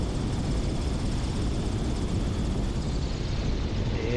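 Taildragger airplane engine during a slow-speed spot landing, a steady loud broadband propeller drone that holds constant throughout without any voices.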